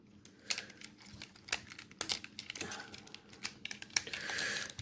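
Plastic pieces of a Siege Voyager Class Optimus Prime toy are folded and pushed into place, giving a run of quick, close clicks, snaps and crinkly rattles at low volume with no talk.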